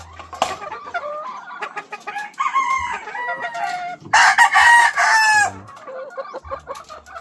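Breeding hens cluck busily in a farmyard while a rooster crows loudly partway through. The calls are near and fairly loud and carry on throughout.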